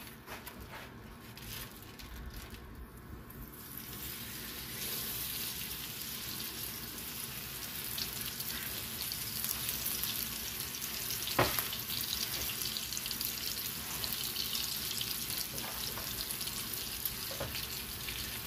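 A bone-in New York steak sizzles loudly and steadily after being laid into a hot pan, with a constant hiss running throughout and no talking.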